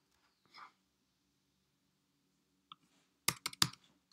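Quick bursts of keys clack on a computer keyboard while a video description is edited. After a near-silent stretch they come close and fairly loud, with a lone click earlier.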